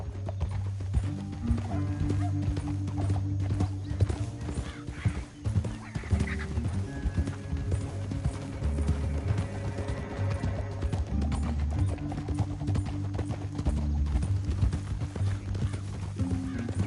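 Steady clip-clop of horse hooves at a gallop in the video game Red Dead Redemption 2 on PS5, close and continuous, over a constant low musical drone, with a brief whinny partway through.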